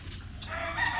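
A rooster crows close by, one loud strained call rising over about a second, with faint farmyard background beneath it.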